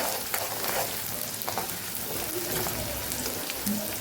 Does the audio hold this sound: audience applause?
no